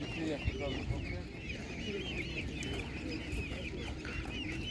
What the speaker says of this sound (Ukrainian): Дуже гарні курочки.